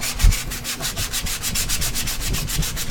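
Close, steady rubbing strokes of a hand file or sanding on a glass construct build piece, repeating in a brisk back-and-forth rhythm with no talking.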